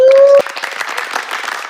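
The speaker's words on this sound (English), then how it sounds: "Let's clap," Audience clapping for a guest being welcomed onto a talk show, a steady patter of many hands. It starts just as a sustained tone stops and carries on evenly to the end.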